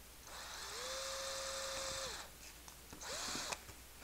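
A small high-pitched drill whines for about two seconds while boring holes in plastic model parts, stops, then spins again briefly, close up with no voices.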